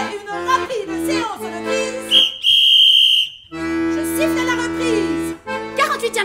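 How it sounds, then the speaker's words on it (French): A referee's whistle restarts a football match after half-time: one sustained shrill blast, about a second long, cutting in between stretches of voice. "je siffle la reprise."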